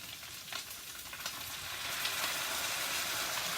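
Bok choy mixture and sauce hit a hot pan and sizzle hard, a dense bright hiss that swells slightly and holds steady, close by, with no talking.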